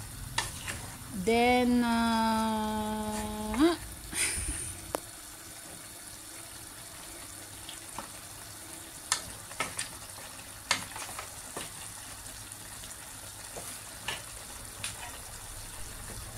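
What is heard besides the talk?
stirring okra and chicken liver adobo frying in a pan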